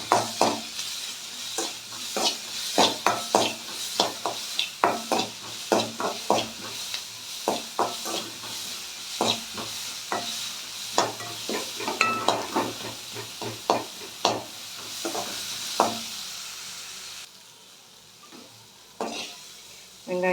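Long sliced onions sizzle and fry in a pan while a utensil stirs them in quick repeated scrapes, close and steady throughout with no talking.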